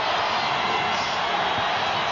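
An arena crowd roars at the 1998 NBA Finals, Game 2 of the Utah Jazz against the Chicago Bulls, as a steady, dense wash of cheering with no breaks.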